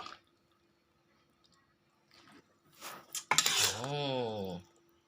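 Catfish curry with eggplant scraped and ladled from a pan into a pot, a few quiet clinks followed by a louder burst of metal scraping and a sustained pouring, sloshing sound near the end.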